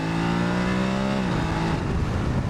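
A BMW F850GS Adventure motorcycle engine pulls hard in second gear through an uphill hairpin, a loud close droning rev that holds steady and then drops in pitch partway through.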